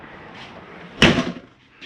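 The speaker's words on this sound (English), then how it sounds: "Close the door." A door on a Jayco Eagle 28 5RSTS travel trailer swings shut with a single sharp, close thud and a short rattle, after a quiet moment.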